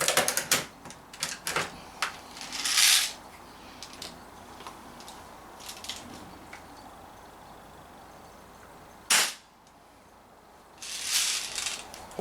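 A Daisy 340 BB pistol loaded with steel BBs gives a few sharp, close cracks and loud bursts spread across the stretch, with small mechanical clicks and rattles between them and no voices.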